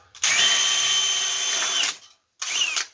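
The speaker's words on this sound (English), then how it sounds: "I need to drill a hole" A power drill whines loudly for nearly two seconds while drilling a hole in the bottom of a tuna can, cuts out briefly, then starts again in a short second burst, close up.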